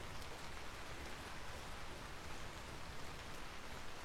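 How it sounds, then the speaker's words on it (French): Rain falling in the video game Vintage Story, a soft, even hiss of drops pattering steadily and faintly with no other sounds or voices. "Il pleut."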